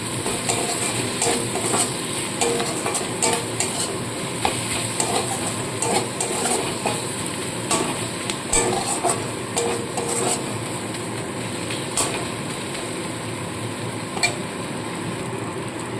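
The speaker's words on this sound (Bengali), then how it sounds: "দিয়ে ভালো করে মশলাটা কষিয়ে নিতে হবে" Spice paste of chili and turmeric powder fries in oil, a loud dense sizzle that runs unbroken, with frequent scraping and clinking of a utensil against the pan, no voices.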